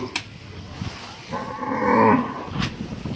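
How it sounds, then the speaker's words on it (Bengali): At a busy cattle market at Amuliya hat, a single cow lows in the middle amid general crowd and animal noise, with faint voices nearby. "এগুলো সুন্দর, এই গরুটা সুন্দর আছে"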